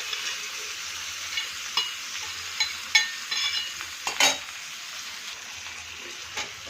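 Onions browning in hot oil in a kadai, a bright steady sizzle with intermittent scraping and stirring clicks, close up and with no one speaking.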